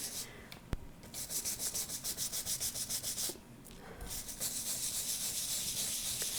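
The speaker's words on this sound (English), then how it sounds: "I need to set it down and I need to really rub on it." A photopolymer stamp plate is scrubbed hard in water with a rapid rhythmic rubbing stroke, then the scrubbing pauses and resumes as a steadier continuous scrape, close and fairly quiet, with no talk.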